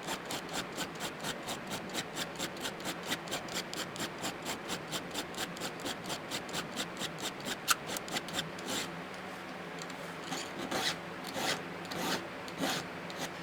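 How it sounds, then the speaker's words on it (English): A hand file sharpens a chainsaw chain in steady, rhythmic rasping strokes, about three per second for most of the stretch, then slower, irregular strokes; close, fairly quiet, with no talking. "I can tell my file's not filing as well as it was"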